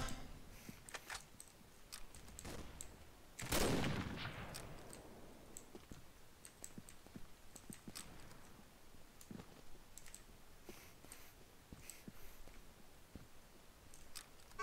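A single sharp gunshot rings out in the video game Combat Arms, set against a steady patter of keyboard and mouse clicks at low volume.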